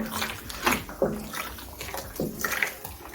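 Grain mash for a blackberry homebrew beer stirred in a pot, making soft sloshing and swishing water sounds in a few short, close strokes.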